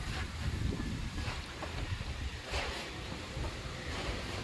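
Strong wind at a beach in the Philippines, a constant loud roar and buffeting against the microphone that runs throughout with no pauses and no talk.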